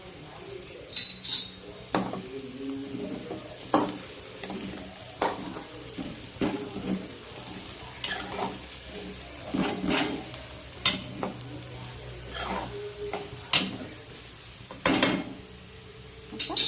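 Curry leaves fry in a pan with soft sizzling underneath while a utensil scrapes and clinks against the metal at irregular intervals. The stirring is close and clear, with no voice.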